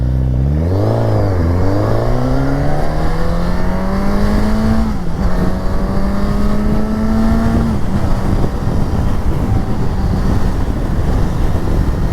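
A Suzuki GSX-S 950 motorcycle pulls away hard from a standing start, its engine note climbing steadily through the gears with brief dips at each shift, heard loud and close under buffeting wind noise.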